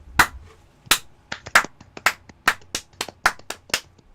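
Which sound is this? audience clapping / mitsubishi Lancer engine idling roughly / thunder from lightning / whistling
audience clapping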